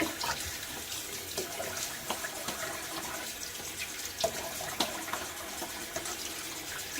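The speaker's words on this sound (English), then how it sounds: "now a little bit of water on my face" Cold, hard winter tap water runs steadily into a sink and is splashed onto a face before a wet shave, a close, even rushing with small splashy spikes and no voices.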